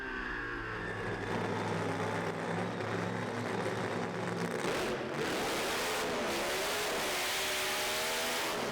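A doorslammer drag racing car making a low 6-second pass starts with layered engine tones and builds into a loud, broad, continuous roar that holds to the end, with no voices.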